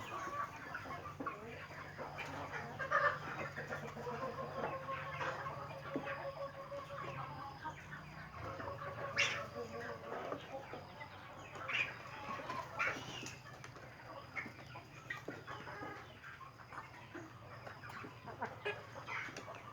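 Mook Isan breed laying hens cluck steadily in a farm flock, several birds overlapping with soft, irregular calls and occasional louder squawks over a constant low hum.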